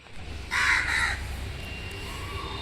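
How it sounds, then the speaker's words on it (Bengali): Crows cawing in a garden where birds are being fed, a loud burst of harsh calls near the start that fades into quieter distant caws over a low background rumble. "দেখো পাখিগুলোকে খেতে দিয়েছি এ দেখো সব চলে এসেছে"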